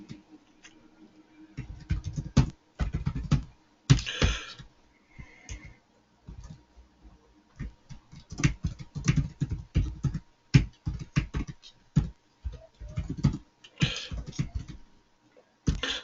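Rapid, irregular clicks of keys on a computer keyboard as code is entered, coming in bursts separated by short pauses, close and fairly crisp in an otherwise quiet room.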